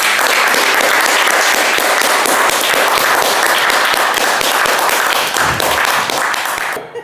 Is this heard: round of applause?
yes